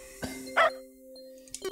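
A cartoonish dog bark from the video game Dogs of Wallstreet comes through on top of steady game music tones, with a couple of short bark-like bursts.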